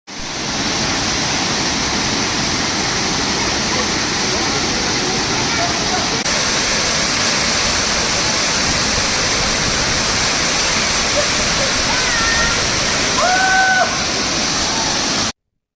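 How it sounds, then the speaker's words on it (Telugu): A steady, loud roar of the Rani Dumduma waterfall fills the whole stretch as continuous close broadband rushing water, with a few faint tonal chirps near the end. "వాటర్ ఫాల్ న్యాచురల్ సౌండ్ని అలా వదిలేశాను. మీరు వినండి, ఎలా ఉందో చెప్పండి."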